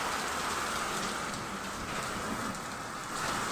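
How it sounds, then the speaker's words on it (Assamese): Heavy rain falls steadily during a hailstorm with the power out, a continuous, even wash of drops on surfaces, moderately loud with no voices. "ইমান বৰষুণ দিছে বাপৰে"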